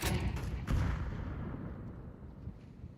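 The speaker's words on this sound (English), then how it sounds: "Throw the flashbang." A flashbang grenade detonating in Counter-Strike 2: a muffled blast in the first moment, then a second burst, with the noise decaying into a fading wash.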